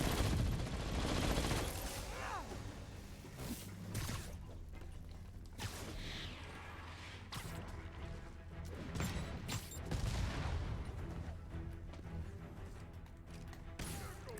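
Minigun fire in a Spider-Man video game, rattling in dense bursts amid crashes, whooshes and busy game action, loud and continuous throughout.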